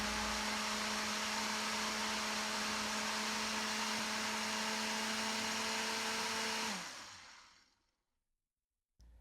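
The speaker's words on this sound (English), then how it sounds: "throw them in your blender and turn it on." A blender roars steadily at high speed for several seconds liquefying tomatoes, then winds down and stops, leaving near silence.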